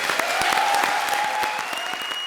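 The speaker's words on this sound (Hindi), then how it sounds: "जोरदार तालियां हो जाएं" Applause from a studio audience at a comedy show fills the room, loud and dense, with steady clapping that continues throughout.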